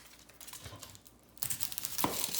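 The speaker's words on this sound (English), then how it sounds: "So what you first want to do is cut off the ends." A kitchen knife slicing through an onion on a cutting board while trimming off its ends: soft, scattered taps at first, then sharper, louder crunching cuts close by, with no talking.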